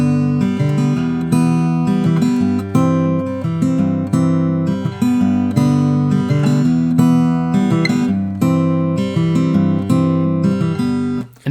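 Acoustic guitar strums the chord progression of a song twice through, steady full chords ringing close and loud, no voice.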